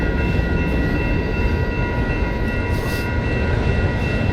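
A freight train with graffiti-covered cars rolls steadily past at close range, a continuous loud rumble and rail hiss with faint high squeals, no voices.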